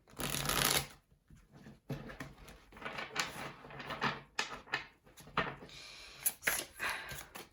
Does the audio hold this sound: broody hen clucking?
no